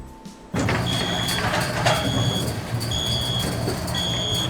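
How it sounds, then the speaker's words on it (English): Fire alarm sound effect in the game Ace Academy, switching on abruptly and then ringing on with loud, shrill, repeating electronic beeps that keep a steady rhythm. "Did you say a fire alarm?"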